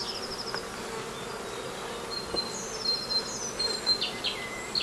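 Agitated honeybees buzz steadily at an open hive during a spring inspection, forming a dense close hum with individual bees whining past the listener and no voices heard.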